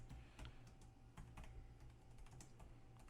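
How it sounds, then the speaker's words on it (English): Rapid typing on a computer keyboard, a steady run of light, close clicking keystrokes with a faint background hum and no talking. "He's just tip tapping away."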